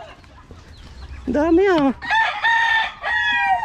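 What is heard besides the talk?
chickens clucking and rooster crowing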